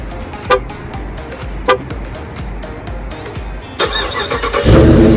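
A 2019 Dodge Charger R/T with a HEMI V8 sounds a few short horn chirps while locking, then its engine cranks and catches on remote start, settling into a loud close idle rumble with no talking.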